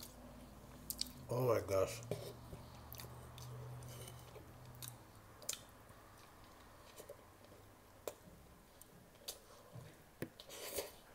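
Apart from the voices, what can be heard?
biting and chewing Asian sloppy joe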